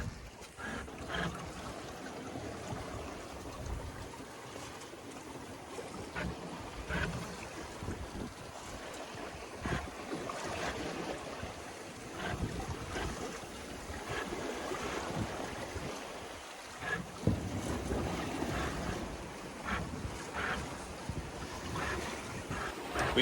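A small sailboat crossing the Atlantic, running wing on wing before a freshening wind in following seas: continuous wash of water along the hull and surging waves, with wind gusting across the microphone and no one speaking.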